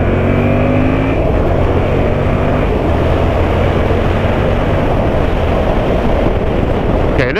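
A 2016 Yamaha MT-07 motorcycle accelerates hard from about 30 mph to past 60, its engine a steady loud roar mixed with heavy wind rush throughout, with no pauses.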